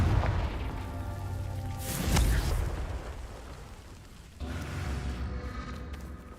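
A Confringo fire blast spell explodes in Hogwarts Legacy: a deep booming burst swells around the two-second mark, then a low rumble lingers, with no voices present.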